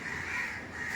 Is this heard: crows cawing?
yes